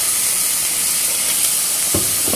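Thin slices of Polish kielbasa simmer in a pan, producing a loud, steady sizzling hiss with a brief clunk near the end and no voices.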